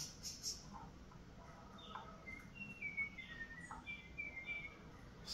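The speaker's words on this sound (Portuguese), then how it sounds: "a sabiá está cantando aqui, ó, no notebook" Faint sabiá thrush song plays from a notebook computer: a few thin, high whistled phrases and chirps, scattered and quiet over a soft background hiss.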